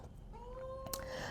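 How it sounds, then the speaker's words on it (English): Pet cat Stella gives a short rising meow near the microphone, a single drawn-out call over a low steady room hum. "that's my cat if you're wondering"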